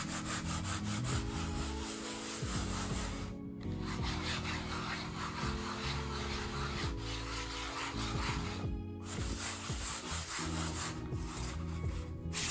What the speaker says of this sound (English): try to listen for the difference in the sound while I rub it on this aluminum